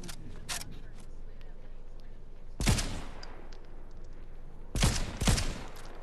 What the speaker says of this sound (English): I was blowing up the gas tank